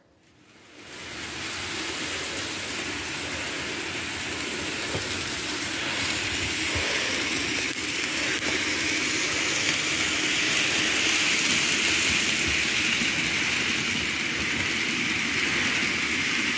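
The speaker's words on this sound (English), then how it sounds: "something I also noticed with this locomotive is that it tended to slow down on the curves" A Kato N scale GS-4 Daylight model locomotive runs on track, making a steady, close whirring rumble that swells in after a quiet start and holds evenly throughout.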